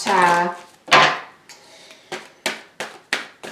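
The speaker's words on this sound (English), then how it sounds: "feel like I just slammed those cards down." Tarot cards slapped down onto a table during a reading: a voiced sound at the start, then a series of sharp, close taps and thumps spaced irregularly, roughly five or six impacts.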